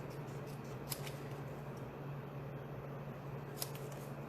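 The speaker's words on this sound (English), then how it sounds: "I'm just going to follow along that stitching and cut it away" Scissors snip through a paper greeting for a Stampin' Up! Paper Pumpkin card, cutting along its stitching: a few quiet, spaced crisp snips over a steady low hum of room noise.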